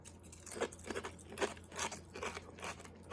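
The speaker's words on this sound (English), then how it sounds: "Dry crunch. Let's find out." Dry Frosted Flakes Pumpkin Spice cereal crunched in the mouth, a series of close, crisp crunching bites at an uneven chewing rhythm, fairly quiet with no talk.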